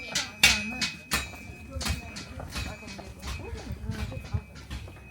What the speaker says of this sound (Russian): здесь кузнец работает, вот тут.